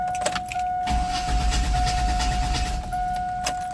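A 2002 Chevy Astro van with a 4.3 engine cranks without catching, a steady low churning of the starter for about two seconds, close and loud, without the engine firing.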